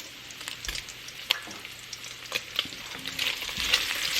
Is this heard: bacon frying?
yes